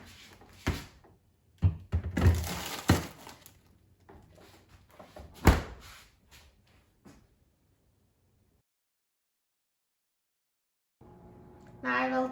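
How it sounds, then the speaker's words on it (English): A bowl of chocolate-coated popcorn is handled and set into a freezer, with several sharp thunks and knocks of shelving and a door shutting, followed by silence and then a faint hum. "So let's take this bowl and put it in the freezer for 20 minutes."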